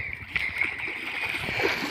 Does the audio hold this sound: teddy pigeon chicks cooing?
no